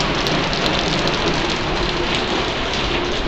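Loud, constant downpour of heavy rain splashing on nearby surfaces, an unbroken dense wash of sound with a few brief sharper drips.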